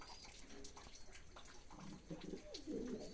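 Pigeons in a breeding loft, coo softly as a few overlapping calls build in the second half, close and moderately loud over a faint background hiss.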